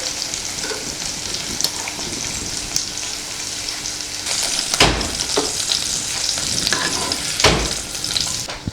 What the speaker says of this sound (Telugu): దొండకాయ పచ్చిమిరపకాయ వేపుకున్నాను.